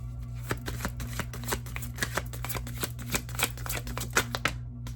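A deck of tarot cards is shuffled by hand, producing a rapid series of crisp, close riffling snaps and flicks in an uneven rhythm before the sound stops.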